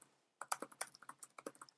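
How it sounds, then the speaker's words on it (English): Quick bursts of keystrokes on a computer keyboard, a dozen or so light clicks in an uneven rhythm, close and clear after a brief quiet start, with no voices. "I would type in my chant."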